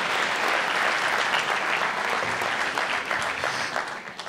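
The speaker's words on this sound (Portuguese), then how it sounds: "Palmas, batam palmas a vocês próprios" A full house at a stand-up comedy show in Trofa applauds on a cold night, a dense steady wash of clapping from many hands that tapers slightly toward the end.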